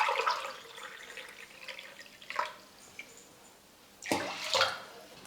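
Water is poured into a pot for cooking rice, a soft, splashing trickle that runs steadily, then pauses and returns in a louder gush near the end, close by.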